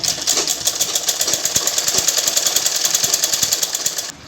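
A sewing machine stitches a blouse with a rapid, evenly pulsing mechanical chatter close up, running steadily for about four seconds before cutting off.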